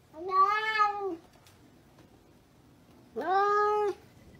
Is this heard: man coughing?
no